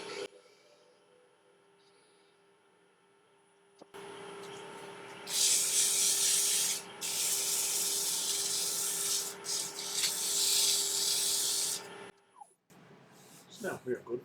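A wood lathe spinning at about 1000 RPM hums steadily with a high motor whine, joined midway by loud hissing, rasping bursts of sanding against a spinning wooden mallet, then stopping.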